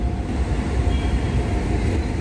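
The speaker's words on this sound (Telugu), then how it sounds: "మేము వెళ్తున్నప్పుడు ఇంకొక ట్రైన్ వచ్చింది," A train passes near the Rajahmundry Godavari bridge, heard as a loud, steady low rumble with no voices over it.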